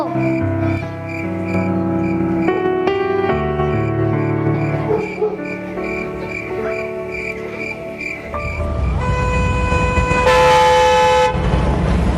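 An auto rickshaw horn used as a sound effect in a school play toots in repeated bursts over steady tonal stage music, loud and continuous throughout.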